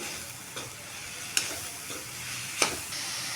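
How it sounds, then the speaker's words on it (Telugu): Grated jaggery and coconut being stirred together in a pan for coconut laddu, a quiet continuous hiss broken by a few sharp scraping strokes of the spoon. "ఇప్పుడు ఈ బెల్లాన్ని కొబ్బరి రెండు ఇలా మిక్స్ చేసుకుంటూ ఉన్నాను"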